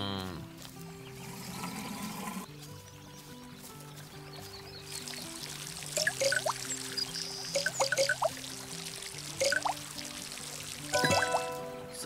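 Strawberries watered with a watering can in the Garden Simulator video game, a continuous pouring, trickling water stream with splashy surges, set against steady background music with melodic tones.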